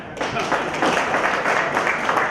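Applause from an audience at a Maharashtra Ramlila Mandal felicitation gathering: a dense, steady wash of clapping filling the whole moment, fairly loud and close, with no talk over it.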